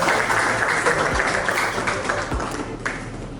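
An audience at a May 2022 fashion show event applauds the project manager, a dense burst of clapping that stays loud and gradually thins out over a few seconds.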